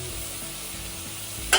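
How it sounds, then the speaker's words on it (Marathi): Mutton pieces being stirred and sautéed in masala in a pan, a steady close sizzle, then a sharp scrape of the spoon at the end, no talking. "आता हे मटणाच्या फोडी छान मसाल्यात परतवून घ्यायचे आपल्याला."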